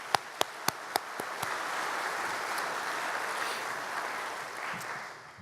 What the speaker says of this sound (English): I believe that they deserve a round of applause.